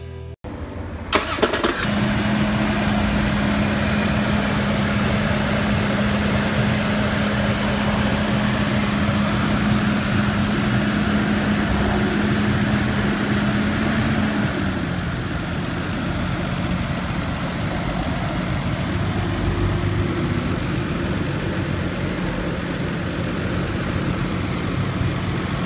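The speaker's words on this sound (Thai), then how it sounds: "เดี๋ยวมาฟังเสียงเครื่องกันครับ" A rebuilt Toyota 2JZ VVTi engine fires up after a short crank and settles into a steady, even idle with a constant low hum, its pitch dropping slightly partway through as it runs on alone.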